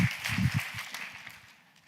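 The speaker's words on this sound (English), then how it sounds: "another round of applause for Mark" Audience at a gene-editing scientific symposium applauds a speaker, a brief burst of moderate clapping in a hall that quickly thins out and fades.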